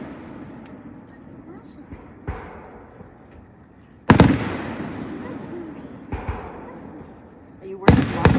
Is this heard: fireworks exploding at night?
yes